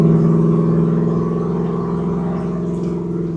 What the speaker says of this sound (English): Beautiful sound of a Ford small block engine.